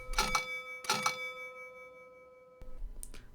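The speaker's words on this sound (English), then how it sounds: "driver guard bell" Driver guard bell on a Class 321 EMU model train, two clear ding-like bell rings about a second apart with a lingering tone, then a faint clunk and a brief squeak.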